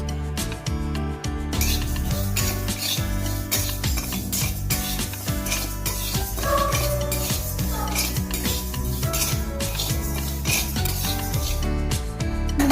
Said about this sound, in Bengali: এবার আমি মুগের ডালটা ভালো করে ভেজে নেব কড়াইয়ে,